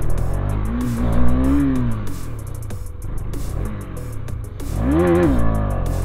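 A KTM Duke 250 motorcycle is revved hard to lift into a wheelie. Two loud rising-and-falling engine surges sit over a steady idle rumble, close to the microphone.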